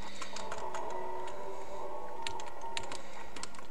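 A computer keyboard clicks in quick irregular clusters of keystrokes over steady electronic game sound during Metroid Zero Mission play, the taps close and fairly sharp.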